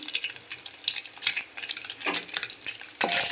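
A spoon stirs an egg bhurji mixture with a little turmeric in a hot pan, making repeated scraping strokes over a steady sizzle of frying, with no talk.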